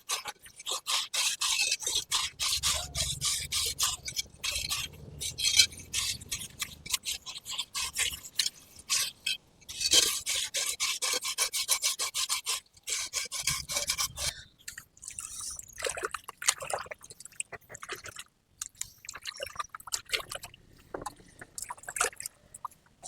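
Plant pots being washed and scrubbed with water: rough, irregular scraping and splashing strokes, close and fairly loud, continuing in bursts with short pauses and no talking.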